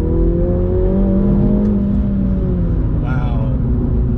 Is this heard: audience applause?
no